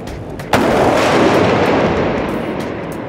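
A single sharp SAR 21 rifle shot cracks out at an outdoor shooting range, loud and close, followed by a long rolling echo that fades slowly.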